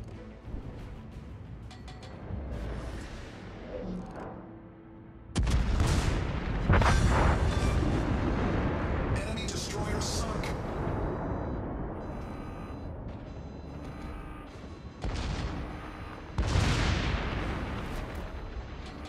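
Naval ship guns firing in the game Sea of Fortune, heavy booming blasts that hit hard and then rumble and decay over several seconds, with a few separate loud salvos.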